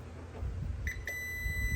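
Two short multimeter continuity beeps, the second held as a steady tone, sound while testing a circuit board, over a noisy low background hum.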